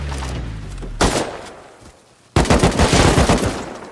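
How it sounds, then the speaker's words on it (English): Grenade blast in the Rust video game: a sharp burst, a lull as it dies away, then a second heavy explosion with a rapid string of crackling pops and booms. "Grenade."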